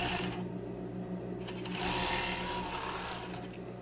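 A sewing machine runs steadily, stitching the shoulder seam of a fleece sweater. The motor hums and whirs continuously at close range, with no one talking.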